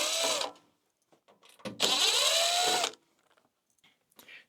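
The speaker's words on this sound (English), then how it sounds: "So I removed all the screws from the outside." A power driver spinning screws out of the case of an EG4 wall-mount LiFePO4 battery, two short whirring runs of the motor, close and clear, separated by quiet handling noises.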